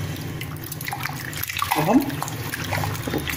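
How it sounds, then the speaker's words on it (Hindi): Raw potato chip slices being rinsed in water in a home kitchen, with faint splashing and sloshing under a woman's speech. "इसको दो पानी से इसको पहले अच्छे से धोएंगे, इसका पानी निकाल देंगे"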